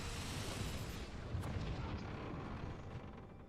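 A salvo of artillery guns fires in a video game battle during a grand final match, a dense, continuous rumbling roar of overlapping booms that stays loud for the whole stretch before easing slightly at the end.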